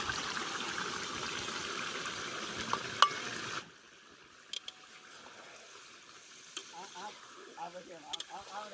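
Chili powder, turmeric and coriander-cumin spice dropped into a pot of steamed whole aubergines, a soft sizzle and stirring that quiets partway, followed by faint scraping clinks.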